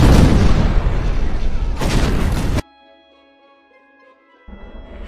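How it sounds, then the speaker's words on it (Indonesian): Terrorist's bomb going off in a drama, a loud sustained roaring blast with a second surge, then a sudden cut to near silence with faint tones before low rumble returns. "Si teroris pun malah meledakkan bomnya lagi."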